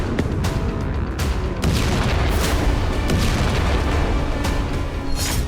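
Loud deep booms rumble one after another from a wartime explosion in Crimea, a heavy blast-like roar with sharp thumps near the start, sounding powerful and close.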